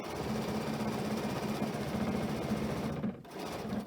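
A sewing machine stitches a fabric scrunchie in a steady, fast mechanical whir, close and continuous, with a brief dip near the end before resuming.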